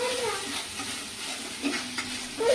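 Spices and ground spinach being sautéed in a pan for palak paneer, giving a steady close sizzling hiss with light stirring scrapes over about two seconds, and no talk.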